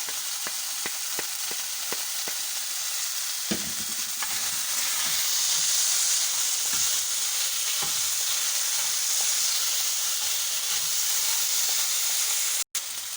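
Spring onions sizzle and fry in a hot pan, a steady bright crackle that continues throughout, with occasional stirring clicks and scrapes near the start.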